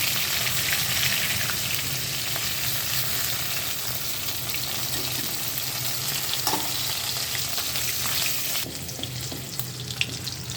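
A single potato fries in hot oil with cumin tempering, giving a steady, loud, close sizzle that runs throughout. Occasional stirring scrapes break through, and no one speaks.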